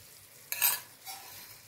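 Poppy seed paste being stirred into a frying drumstick curry in a pan, a brief scraping stir with soft sizzling that rises and fades, quiet and close.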